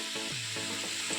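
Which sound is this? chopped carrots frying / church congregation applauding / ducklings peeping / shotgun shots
chopped carrots frying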